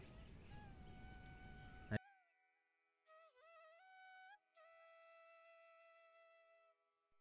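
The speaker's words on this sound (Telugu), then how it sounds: "బాగా స్పష్టంగా కనిపిస్తుంది నెమలి అరుపులా" At sunrise in Hampi, several long, wailing peacock calls ring out clearly, each drawn-out cry separated by short pauses, after a brief burst of background noise.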